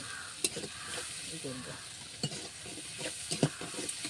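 Spice paste for mutton kosha frying in a pan while being stirred, a low sizzle with scattered scraping clicks of the spoon and a faint voice in the background.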